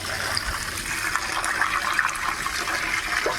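Running tap water pours steadily over freshly bought silver carp being rinsed in a kitchen, a continuous close splashing hiss with no talk.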